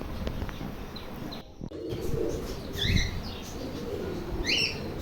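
Pigeons, including Danish birds, in a loft, with soft cooing and chirping calls over a low background rumble, a brief burst of wing flapping near the start, and several rising call notes later on.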